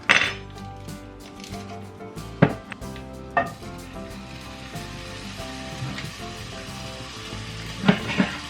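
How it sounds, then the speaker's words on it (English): Pork sausage browns in a pan on a home stovetop with a steady low sizzle, while utensils clink and scrape against the pan in several sharp knocks close by. "While the sausage is browning on the stovetop"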